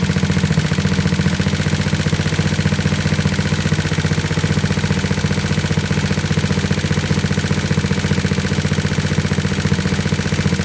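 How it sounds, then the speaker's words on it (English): A GY6 scooter engine fitted with a 105 jet runs steadily at close range for the whole stretch, a dense continuous drone with a rough, uneven texture. Distinct backfire pops are not clearly separable from the running noise. "Hear that backfiring?"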